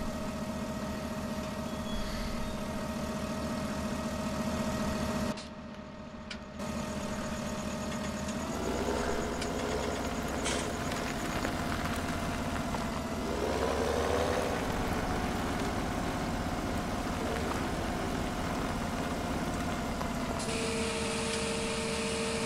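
Tractor engine idling in the farming game Farming Simulator 17, a continuous low mechanical drone with small shifts in pitch and a brief dip in level, heard alone without talk.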